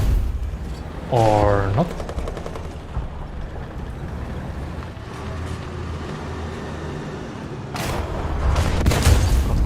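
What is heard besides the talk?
gunfire shooting at a tree in a video game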